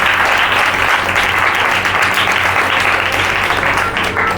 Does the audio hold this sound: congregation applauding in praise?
yes